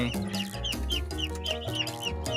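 Newly raised Muscovy ducks on a farm give a steady stream of overlapping clucking, chattering calls, close and fairly busy, with no talking.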